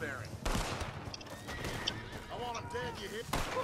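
Horse in a chaotic multiplayer video game neighs and whinnies several times, with hoofbeat clip-clops and scattered game noise, while players shout and talk over it.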